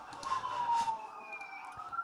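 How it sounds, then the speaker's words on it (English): Fire truck and ambulance sirens wail outside a house, faint and distant, their tones sliding and overlapping behind steady background noise. "There's a fucking fire truck outside my house and an ambulance."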